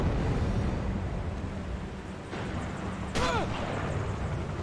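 Sniper rifle shots ring out in the World War II shooter Sniper Elite during a U-Bahn station mission, with two sharp reports a second apart over a steady rumble of battle ambience.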